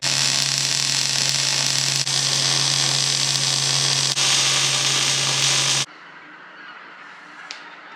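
Welding in a workshop gives a loud, steady crackling buzz over a low electrical hum for about six seconds, then cuts off abruptly, leaving a quiet room with one faint tick.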